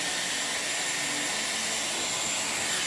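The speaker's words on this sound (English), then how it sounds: "So then all you do is you turn it on, you just hold it up to your hair, and you let it dry." Dyson Airwrap hair dryer blowing, a loud, steady, close airy whoosh with a constant motor whine that runs unbroken and alone.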